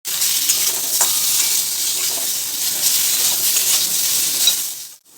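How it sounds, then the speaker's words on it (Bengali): Potatoes frying in mustard oil in a wok, a loud, dense, continuous sizzle close by, cutting off abruptly just before the end. "এরপর ওই একই কড়াই আরও কিছুটা সর্ষের তেল দিয়ে আলুগুলোকে ভেজে নেব"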